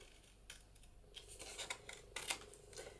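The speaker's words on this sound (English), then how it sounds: "I'm going to cut that corner out, and this one." Scissors snipping the corner out of a paper journaling booklet, a series of soft, close, crisp cuts and rustles heard quietly with no talk.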